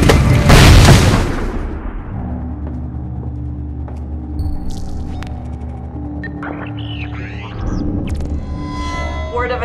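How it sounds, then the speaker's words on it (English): A grenade explodes in Splinter Cell Blacklist, a loud, close, deep boom that fills the first second and a half and then settles into a low, steady hum with scattered faint game effects. "Grenade!"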